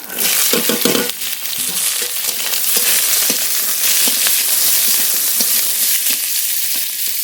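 Spices, cumin first, fry loudly in hot mustard oil in a wok, with a dense steady crackle and sizzle, occasional stirring scrapes, and no voices.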